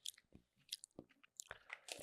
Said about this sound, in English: I'm chewing like a maniac for some reason though.